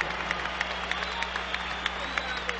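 Arena crowd applauding heavyweight boxers Evander Holyfield and George Foreman after their twelve-round fight in Atlantic City, a steady wash of distant clapping and crowd noise with a low hum beneath and an announcer talking over it.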